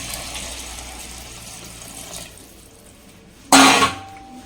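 Water is poured onto rice in a cooking pot while making plain kuska. A brief, loud splashing gush comes near the end after a quieter stretch of kitchen noise.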